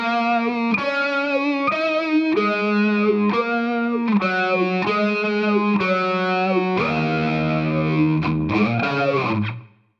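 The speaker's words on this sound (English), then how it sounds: "The reverb sounds more like a reverb, not a doubling echo chamber effect" Distorted electric guitar played through a Fractal FM3 with its reverb at default early and late levels after a soft reset: a run of sustained, overdriven chords and notes, close and loud, ending in a ringing tail.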